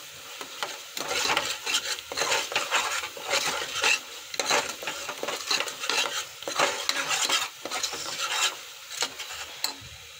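Biryani masala mixture with ground spices and a little garam masala is stirred in a pot at home, a steady scraping and rubbing of the spoon against metal that keeps going, close and busy, with no talking.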